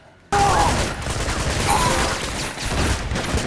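Game gunfire from Uncharted 2, a dense, loud burst of rapid shots and fusillade filling most of the clip after a brief quiet start, with busy combat noise throughout.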